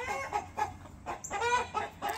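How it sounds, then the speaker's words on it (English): Chickens cluck close by on a farm, a run of short, repeated clucks and murmuring calls in uneven bursts. "Chickens are checking him out."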